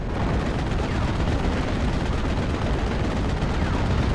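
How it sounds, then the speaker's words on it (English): Sustained gunfire at a 222 armoured car in a Steel Division: Normandy 44 battle on Omaha, a dense unbroken roar of shots and distant blasts running loud through the whole stretch with no talk. "I'm going to move across and try and go for a shot onto the 222 instead."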